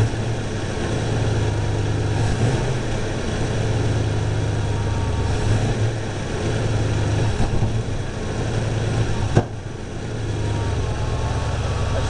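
A car engine at part throttle with hesitation and faint exhaust backfire, a steady close rumble with slight surges and one sharp pop near the end.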